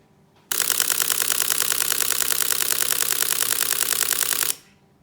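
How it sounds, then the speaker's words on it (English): Burst from the Sony a9 II's redesigned mechanical shutter at 10 frames per second, a fast, dense, even rattle of clicks lasting about four seconds, close and loud, with no voices. "Sony has given us a whole new shutter mechanism that is smoother and more refined,"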